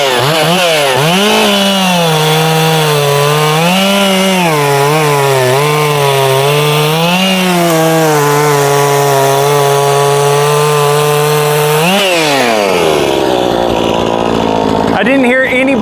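An AL-KO Solo 6656 chainsaw engine runs loud and close, a buzzing two-stroke note that wavers as it revs, then holds steady at high idle before it sags and drops off near the end.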